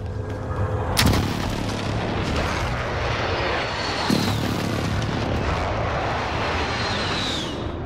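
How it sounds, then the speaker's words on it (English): Precision airstrike explosions in a battle royale video game, two sharp booms about three seconds apart over a dense, loud rumbling roar with aircraft whine overhead. "Friendly precision airstrike inbound."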